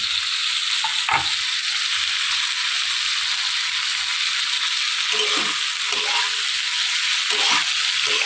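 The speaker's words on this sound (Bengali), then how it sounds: "এবার গাজর আর বিনস আর কাঁচা লঙ্কা যেগুলো ছিল লম্বা লম্বা করে কেটেছিলাম ওগুলো দিয়ে দিলাম" Carrots, beans and long-cut green chillies stir-frying for street-style veg hakka noodles, a loud steady sizzle filling the whole stretch with occasional scraping knocks of a spatula in the pan.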